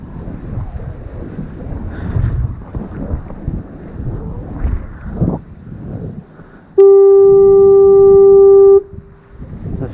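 A foghorn at the Westport fishing jetty in late July gives one long, loud, steady tonal blast lasting about two seconds, rising above heavy wind noise and rumbling background.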